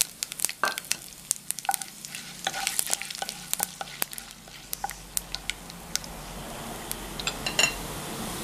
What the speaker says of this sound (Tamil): கடலைப்பருப்பு கொஞ்சம் வதங்கியாச்சு, கடுகு போட்டுக்கலாம்.